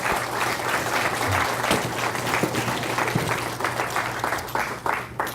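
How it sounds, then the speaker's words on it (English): An audience applauds a volunteer during a talk, dense steady clapping from a crowd lasting the whole stretch, loud and close, with no voices over it. "Give a round of applause."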